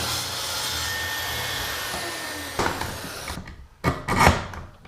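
Dried wood being sawn to length for a built-in alcove bookshelf: a steady, close rasping cut runs for about three seconds, then breaks into a few short, sharper strokes before it stops.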